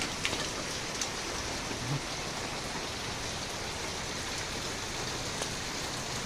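Steady afternoon rain in Bicol pattering on surfaces, a constant even hiss with a few sharper drips standing out, moderately close and with no one speaking.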